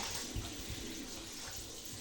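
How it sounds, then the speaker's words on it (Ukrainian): Water runs steadily from a kitchen tap in a village home, a constant close splashing rush with a few small bumps, and no one speaks over it. "Я ось проточу і додам холодненької води."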